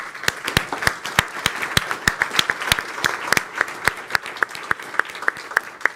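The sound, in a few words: audience applause after a panel session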